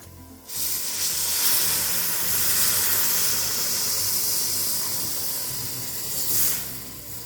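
Hot milk poured into frying semolina with banana and raisins in a pan for sheera sets off a loud, steady sizzle and steamy hiss that holds for several seconds before easing.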